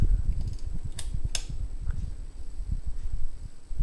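Hunter Augusta II 52-inch ceiling fan running at medium speed, a steady low whooshing hum of moving air with a couple of faint clicks, close and continuous with no talking.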